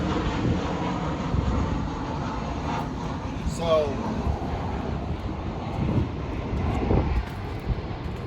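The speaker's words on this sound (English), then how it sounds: "I'll let that plane pass." Airplane passing overhead outdoors, a broad, steady rumble that swells and fades slightly over several seconds, with a voice briefly audible.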